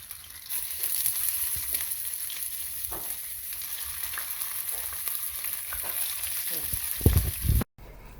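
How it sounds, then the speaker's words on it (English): Steady sizzling of meatballs frying in hot oil in a wok, continuous and close, with a brief clatter near the end before it cuts off. "So we're going to start frying our meatballs."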